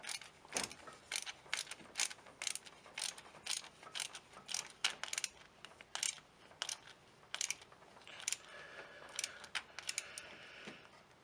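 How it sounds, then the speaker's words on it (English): A power steering hose clamp tightened with a hand tool during a fluid change, a quick series of faint ratcheting clicks and metallic snaps in an irregular rhythm, close but quiet. "tighten that clamp up"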